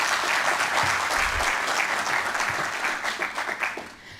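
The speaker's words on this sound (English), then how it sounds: "Please, once again, give them a round of applause." Sustained applause from an audience honoring speakers at an Afghan Youth Representative to the United Nations event, a dense wash of clapping that holds steady and then thins and fades toward the end.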